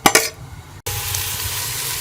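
Onions hit a large amount of hot ghee for beef biryani, a brief clatter followed by a loud, steady hissing sizzle that carries on evenly.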